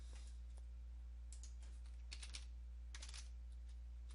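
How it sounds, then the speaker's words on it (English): A command is typed on a computer keyboard while fixing a Windows 10 repair loop. It comes as a few short clusters of quiet keystroke clicks with pauses between them, over a steady low electrical hum and no talk. "Once you've done that, you want to type in dir"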